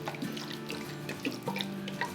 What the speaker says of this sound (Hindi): और अब हम इसमें पानी डाल देते हैं।